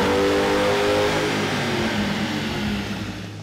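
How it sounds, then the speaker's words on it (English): A 2006 Ford Mustang GT fitted with a JLT Series 3 cold air intake runs on dyno rollers, its engine droning loud and steady at high revs before slowly easing off, close and with no talk. "let's turn the rollers one more time and see how well the Series 3 performed on our GT."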